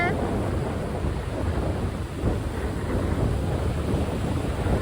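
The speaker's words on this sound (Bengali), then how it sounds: "দেখো ঢেউ আসতেছে" Surf roars steadily along a beach while strong wind buffets the microphone, forming a constant wash of noise.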